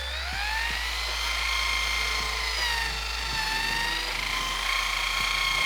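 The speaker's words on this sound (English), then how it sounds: "then quickly moved to the brush attachment on the drill" A drill spinning a wire brush attachment against a 28-year-old rusty BMW E36 brake caliper, a steady high whine with a low hum beneath, continuous and close, pitch shifting slightly as pressure changes.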